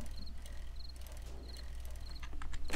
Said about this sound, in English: There's the crickets.